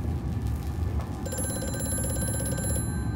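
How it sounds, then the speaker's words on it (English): Old-style telephone ringing in the horror game Amnesia: A Machine for Pigs, a rapid metallic bell trill starting about a second in and sustained over low mechanical ambience, then cutting off near the end. "Ooh, the phone."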